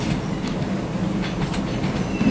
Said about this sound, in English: Right, coming in now, we've got the terminating West Midlands Railway service on Birmingham New Street.